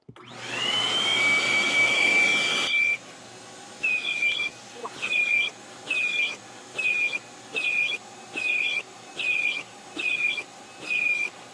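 A vacuum cleaner whines loudly for a couple of seconds, then shuts off and gives way to a series of short, evenly spaced whistling bursts.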